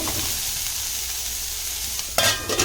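Onions stirred and frying in a pan while cooking sutta kathirikai pachadi, a roasted eggplant dish: a steady soft sizzle ending in a few sharp scraping stirs of the spoon.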